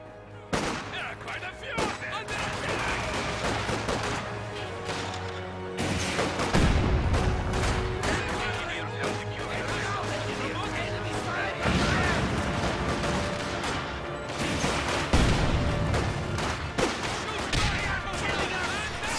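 Gunfire from a video game battle in which an anti-tank gun engages a half-track, with repeated heavy shots and bursts over a dense, loud din of combat.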